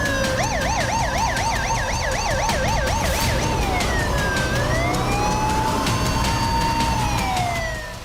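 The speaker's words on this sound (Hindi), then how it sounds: "शहर और सड़क पर पुलिस और एम्बुलेंस के सायरन का शोर सुनाई देने लगा।" Loud wailing police and ambulance sirens in a city street, one rising and falling rapidly in a yelp while another sweeps slowly, blaring continuously over traffic noise.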